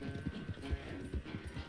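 Horse hooves clip-clop in an uneven walking rhythm in Red Dead Redemption 2, close but soft, with a faint snort and nobody speaking over them.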